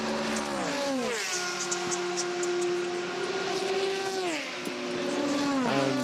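LMP2 prototype race cars at the 24 Hours of Le Mans in 2014, bunched together and running out of the Mulsanne corner. High engine whines rise and fall as several cars blast past one after another, loud and close, with no talking.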